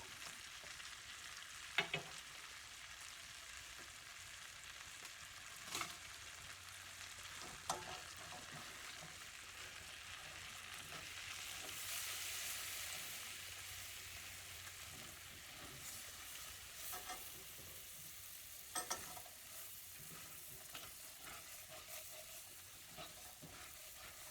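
Flour and chicken cooking in a pan for chicken a la king, a soft continuous sizzle with occasional scrapes and clicks of stirring, quiet and close, with no speech.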